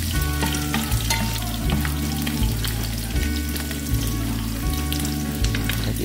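Onions fry in hot oil with a loud, continuous close sizzle, broken by scraping stirs, while a low rhythmic hum pulses underneath.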